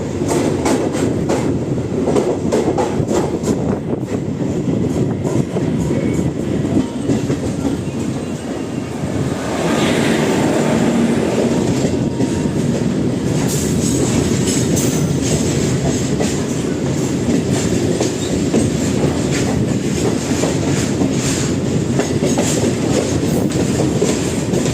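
A Palakkad Town–Erode MEMU unreserved train runs on the rails near the Walayar ghat section, heard from on board as a loud, continuous rumble with rhythmic clickety-clack from the wheels and no pauses.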